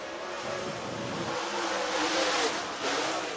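Dirt late model race car running a qualifying lap at a dirt oval speedway, a sustained engine roar heard from a distance, rising and swelling as the car passes.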